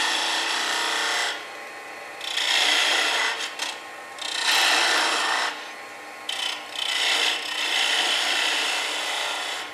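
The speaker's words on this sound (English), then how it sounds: "I'm just going to come in there with the skew and just make that bead move larger" A skew chisel cuts a bead on a wooden Christmas ornament spinning on a lathe. A bright rasping scrape comes in several passes of a second or two each, with a softer rotating hiss between them.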